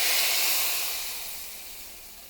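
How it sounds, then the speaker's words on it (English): Hot tadka tempering poured onto cooked dal lentils sets off a loud, close hiss of sizzling that bursts at full strength and slowly fades over a couple of seconds, with no voices. "So we're gonna take our tadka and put it right on the dal."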